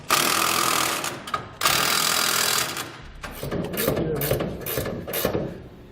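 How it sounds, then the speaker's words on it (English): Ratchet fitted with a 3/4-inch socket tightening the nuts on a Curt underbed gooseneck hitch, a loud close run of rapid clicking and grinding followed by shorter bursts of ratcheting. "You're going to use a 3/4-inch socket to tighten down all of the nuts."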